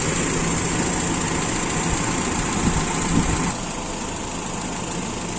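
A Toyota Kijang engine with an Aisan carburetor and over-advanced ignition idles close by with a steady, buzzy hum and a slight uneven pulse, dropping a little in loudness partway through, with no talking.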